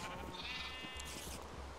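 A sheep in a barn lets out one wavering, drawn-out bleat close by, followed by a rustling shuffle.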